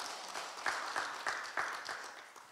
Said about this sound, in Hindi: क्यों ना जोरदार तालियों के द्वारा उनको हम बधाई दें।